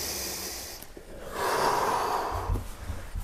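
Deep, forceful breathing during a core stability drill for handstand training, with a sharp intake followed by a long, loud exhale close to the microphone, heard alone without talk.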